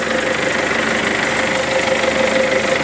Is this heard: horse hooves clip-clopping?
no